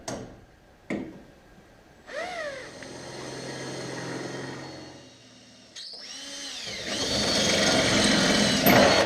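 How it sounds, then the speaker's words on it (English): A power drill bores holes while Audi Sport Quattro replica headlamps are fitted, its motor whining and rising in pitch through several steady runs, close and loud, with no talking. "I got to drill the holes for those"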